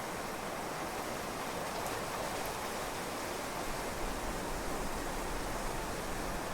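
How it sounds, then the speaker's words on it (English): Steady rain in the video game Clanfolk, a continuous broadband hiss of rainfall at constant level throughout, with no voices. "because it's raining all over the map."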